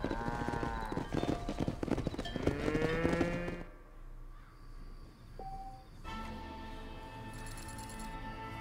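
A herd of cattle moos in the Red Dead Redemption game world, several drawn-out lowing calls in the first few seconds mixed with hoof clip-clop, then fading to quieter ambience with a brief tonal sound later.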